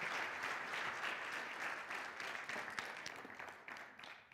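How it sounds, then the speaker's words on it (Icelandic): A conference audience claps for a speaker who has just arrived, the applause dense at first and then thinning as scattered claps fade out. "gefið henni gott klapp"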